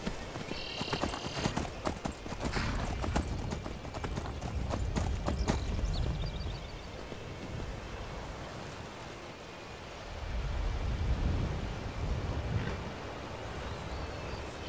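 In the video game Skyrim, horse hooves clip-clop in a steady, rhythmic gait across the ground, with occasional soft wind and a faint ambient hiss.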